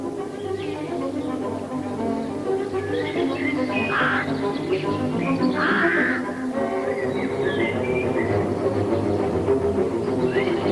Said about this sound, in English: the sound of the rooks is a typical background to early spring